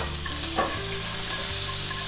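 Sweet bell peppers fry in olive oil in a very hot pan, giving a loud, steady, close sizzle with some stirring, and nobody talks.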